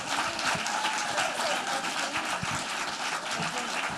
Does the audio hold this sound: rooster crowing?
no